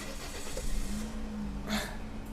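A 2015 Toyota Yaris 1.2 E automatic engine turns over and settles into a low, steady running hum, close by, with a brief burst of hissing noise partway through.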